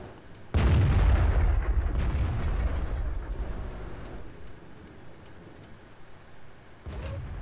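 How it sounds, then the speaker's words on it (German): A tank cannon shot in World of Tanks gives one loud, close boom that rolls off into a long fading rumble, with another shot starting at the end. "Das war aber nicht der Räumerwagen, der geschossen hat."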